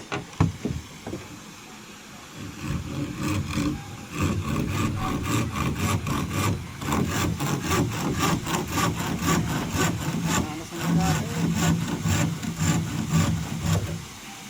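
A hand saw cuts steadily through wood on a boat build, with a continuous rasping back-and-forth stroke that is loud and close, preceded by a few knocks and no talking.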